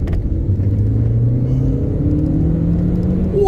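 An Audi TT Mk1 engine pulls hard along a back road, heard from inside the car as a steady low rumble with rising tones climbing through the gears over about three seconds.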